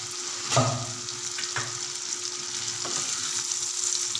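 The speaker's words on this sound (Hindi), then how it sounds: "अब इसमें हम डालेंगे खुश्क धनिया और सफ़ेद ज़ीरा।" Dry coriander and white cumin frying for a potato dish, giving a steady close sizzle with a few light stirring clicks.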